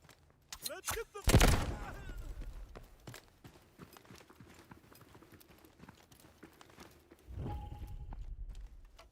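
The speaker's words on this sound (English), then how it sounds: "I did hear some gunshots though" Gunfire in the video game Delta Force: a sharp, loud burst of shots near the start, followed by scattered faint pops and footstep-like ticks over a quiet background, with a second rumbling swell toward the end.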